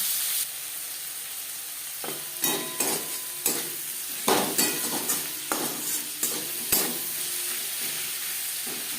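Chopped onions and tomatoes fry in a little oil for a rohu fish curry with winter vegetables, a steady close sizzle broken by repeated scraping and clattering stirs.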